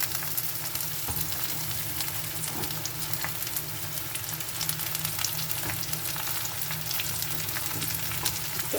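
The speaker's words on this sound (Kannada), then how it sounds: "ಸ್ವಲ್ಪ ಬೇಯಿಸ್ಕೊಳ್ಳಿ. Carrot, beans, cabbage," Carrots, beans and cabbage frying in a pan for egg fried rice, a dense, even sizzle close by with faint stirring scrapes throughout and no talking.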